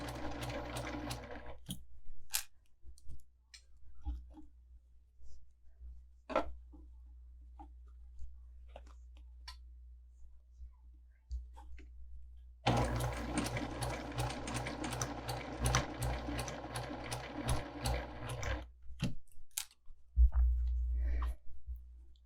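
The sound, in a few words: sewing machine stitching fabric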